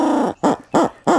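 An owl's laughing call imitated on a turkey call, three loud, separate bursts in a quick, even rhythm, each a rising-and-falling cackle heard close and alone.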